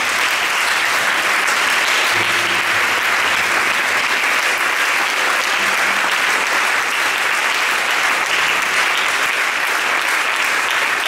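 A church congregation at a Sunday worship service applauds Jesus: loud, dense clapping and cheering that holds steady for about eleven seconds.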